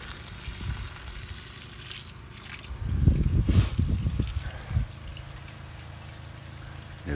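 A fresh water tank pump in an RV trailer build pushes water out through a tube, giving a gurgling, splashing rush that swells in the middle and then eases back to a steady low hum.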